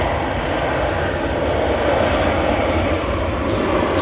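A Kuwait Airways Airbus A330 at Manchester Airport produces a loud, steady jet-engine roar that fills the whole stretch without a break.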